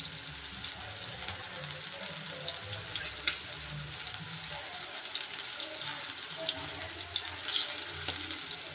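Marinated prawns frying in a kadhai give off a steady, hissing sizzle that runs without a break, with small crackling pops now and then and no talking.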